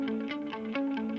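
A Rickenbacker bass preset is played in its highest register to imitate an electric guitar. It gives short, distorted, chorus-tinged notes in quick succession, loud and close with no talk.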